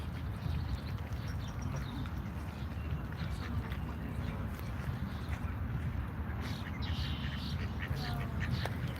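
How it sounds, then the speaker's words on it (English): Geese and ducks call from near water in an outdoor city setting, scattered honks and quacks over a constant noisy background wash. "Geese are the ones making all the noise now. The ducks were making a lot of noise before."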